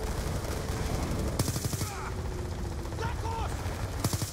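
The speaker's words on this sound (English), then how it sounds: "I got a heavy gun bunkered on the balcony." Heavy machine gun fire in Call of Duty Black Ops 2, a gun bunkered on a balcony, rattling in bursts of sharp shots across the scene with loud cracks, mixed with other game noise and voices talking over it.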